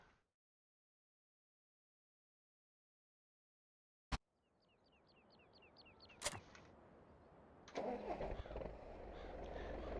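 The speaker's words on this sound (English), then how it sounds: "Let me go grab one of the tractors." A tractor engine in the farming video game Farming Simulator 17 cranks with a sharp click and starter whine, then catches into a steady, fairly loud idle rumble that grows fuller toward the end.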